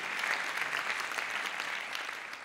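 Audience applause at a French financial engineering award ceremony, a dense, even patter of clapping from a seated crowd, moderately distant and fading slightly toward the end.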